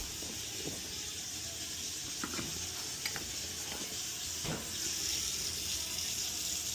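A hot water tap runs steadily into a sink during a plumbing check on a home heating system, a continuous close hiss with faint clinks and knocks mixed in.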